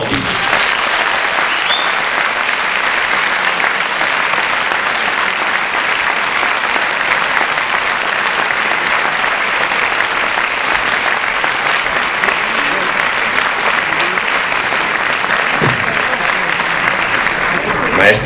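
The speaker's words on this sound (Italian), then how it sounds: "accogliendolo con un grandissimo applauso, il nostro maestro Danilo Belotti" A large theatre audience applauds steadily and loudly for conductor Danilo Belotti at a Corpo Musicale Pio XI show in Villa d'Almè, dense clapping running without a break and with no voices on top.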